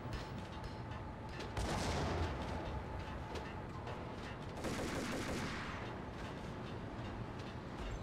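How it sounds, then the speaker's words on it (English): A grenade explosion and gunfire in the Max Payne shooter game, with two broad blasts, each followed by rumbling debris and scattered shots, over a continuous low roar. "He threw a grenade."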